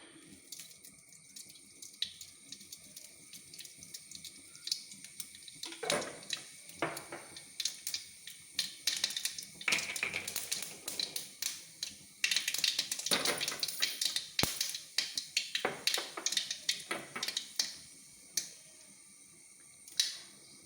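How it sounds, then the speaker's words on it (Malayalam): Mustard seeds pop and crackle in hot coconut oil in a pan, sparse at first and then building into a dense burst of sharp, close snaps before thinning out again. "കടുക് പൊട്ടി"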